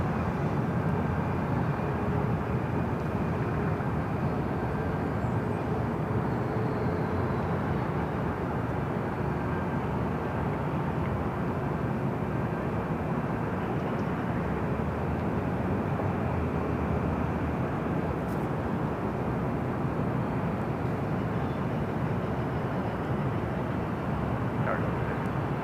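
Steady, broad roar of an airliner arriving from Tokyo Haneda at LAX, a sustained engine rumble and rush that holds at an even level throughout, with no talk.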